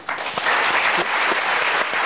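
An audience applauds steadily and loudly in a hall, dense sustained clapping with no talk over it.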